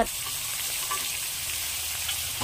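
Chopped leftover vegetables with curry leaves, salt and turmeric fry in a pan, giving a steady, close, even sizzle that lasts throughout and has no talking over it.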